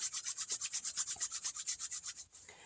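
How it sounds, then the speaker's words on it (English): Hands rubbing together with oil, anointing before rubbing it onto a candle for a spell; about twenty quick, even swishing strokes, close and fairly quiet, ending abruptly with no talk. "I'm just going to rub it together to activate that oil."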